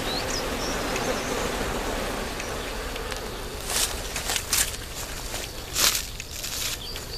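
A swarm of honeybees arriving at a hive, a dense continuous buzzing hum with louder passes as individual bees fly close by.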